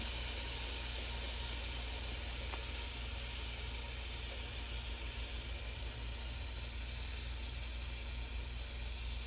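French toast, soaked bread slices, frying in a skillet, giving a steady, even sizzle and hiss that holds without a break and without talk.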